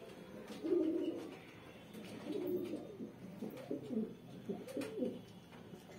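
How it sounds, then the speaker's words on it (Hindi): Low, rounded cooing of a male Madrasi pigeon repeats in several soft phrases, close by, with faint background hiss and no talking. "ये नर कबूतर है।"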